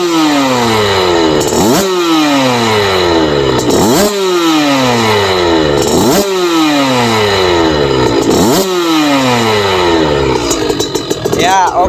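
A small Kawasaki KX65 motocross bike engine revs up and down in repeated cycles, high-pitched and close, with voices faintly underneath.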